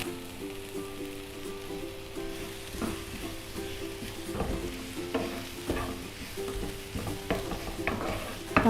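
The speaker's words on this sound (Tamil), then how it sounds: "வெங்காயம் நல்லா வதங்கணும்." Onions sautéing in a pan with turmeric for aloo bonda, giving a steady soft sizzle broken by occasional stirring scrapes, close and moderately quiet, with no talk.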